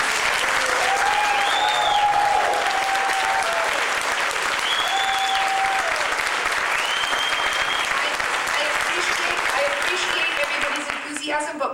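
Audience at a New School talk in New York breaks into sustained, dense applause that stays loud for most of the stretch, with whistles and cheers over it, thinning slightly near the end.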